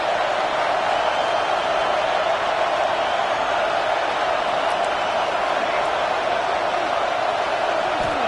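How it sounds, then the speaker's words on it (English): Steady roar of a stadium crowd at a Tennessee college football game, a dense continuous wash of cheering and noise with no breaks, loud and even throughout. "This crowd trying to make life miserable for this offense."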